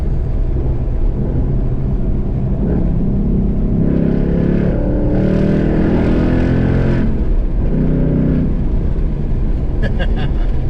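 Manual Ford Roush Mustang engine driven on a road, a loud continuous drone that rises and falls in pitch as it revs through gears, with a voice talking over it.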